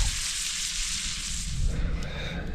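Food sizzles and fries steadily in a pan at Cape San Blas, a dense hiss close by that stays even throughout, with no voices present.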